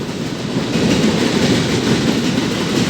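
A long freight train of oil tanker wagons rolls past a rail crossing in a village, a loud, steady rumble and clatter of wheels on track that holds throughout without a break.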